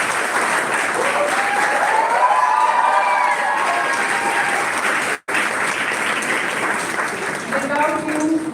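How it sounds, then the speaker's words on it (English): An audience at a 2025 oath-taking ceremony applauds the parents, with loud, dense crowd clapping and some cheering running continuously throughout, plus a brief dropout midway. "applause for parents."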